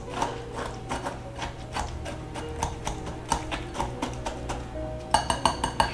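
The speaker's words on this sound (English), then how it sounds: "And I am just going to whisk these together just a little bit." A whisk clinks and scrapes against a bowl while stirring brown sugar and cane sugar together, a quiet run of rhythmic metallic ticks that quickens near the end.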